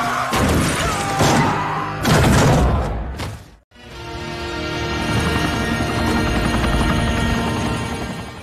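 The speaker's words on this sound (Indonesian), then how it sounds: "Setelah itu nampak Rana berusaha kabur dengan helikopter" A helicopter during an escape after a car crash, heard as a dense, loud rotor and engine roar with heavy thumps, briefly cutting out before returning as a steady, continuous drone.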